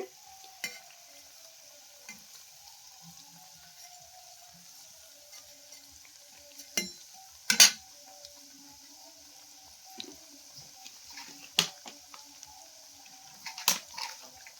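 Coriander leaf and lau flower fritters fry quietly in a wok, a soft steady sizzle broken by a few sharp clinks and bursts of spatter, with no talk.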